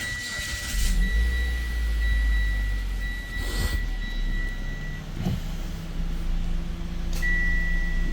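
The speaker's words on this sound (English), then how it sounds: "if we start the car" A Mitsubishi car engine cranks and settles into a steady idle, with a few electronic beeps chiming over the low hum.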